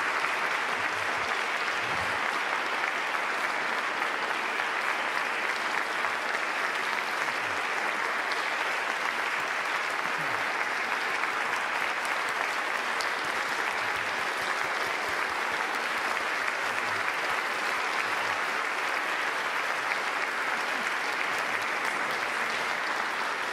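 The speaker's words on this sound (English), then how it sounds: "the applause of the audience speaks it all" Sustained audience applause after a Martin Luther King Jr. birthday keynote in Durham, a dense, even roar of many hands that holds steady for over twenty seconds with no voices on top.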